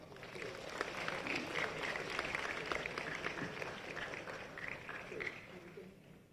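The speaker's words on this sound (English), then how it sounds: "Let's give Professor Susi Jen another warm applause" Conference audience at an Asia-Pacific nephrology congress applauds after a music performance, a faint, distant patter of clapping with murmuring voices mixed in, steady for several seconds before fading.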